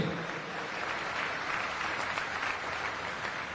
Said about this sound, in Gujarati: તાળીઓના ગડગડાટથી ફરી એક વખત મંચાસીન તમામ ગણમાન્ય અતિથિઓને આપણે સૌ વધાવીએ